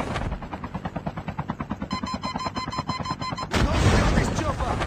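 Helicopter rotor thump with rapid gunfire in Call of Duty, a steady chopping pulse joined by bursts of shots and then a louder wash of firing near the end, under faint voices.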